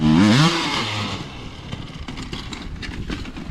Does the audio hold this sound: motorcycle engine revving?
yes